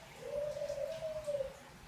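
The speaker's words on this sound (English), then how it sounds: "And those are my doves in the background" Doves coo steadily in the background beside a Hampton Bay Carousel ceiling fan, a soft continuous run of low, wavering coos lasting most of the moment at fairly quiet level.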